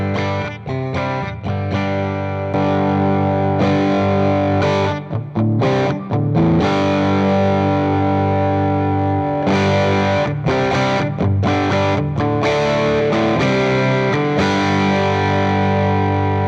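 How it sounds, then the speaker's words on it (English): Electric guitar through a Sonicake Matribox multi-effects unit set to a vintage tape saturation simulator, playing warm, mildly distorted chords and riffs with sustained notes and brief gaps, loud and close with no talking. "We're a vintage tape saturation simulator providing analog warmth and a natural distortion."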